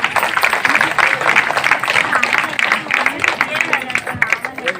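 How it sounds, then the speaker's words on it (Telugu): An audience at a Bharat Mata puja and cultural programme in Saroor Nagar claps loudly in a dense, continuous burst of applause, with crowd babble and voices mixed underneath. "ఒకసారి గట్టిగా చప్పట్లు కొట్టాలి."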